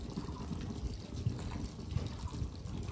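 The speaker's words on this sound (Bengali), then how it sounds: "এটার মধ্যে একটু জল দিয়ে দিই" Water trickles and splashes into a pot of rice cooking for fried rice in a home kitchen, a soft continuous pour with low bubbling and clatter underneath.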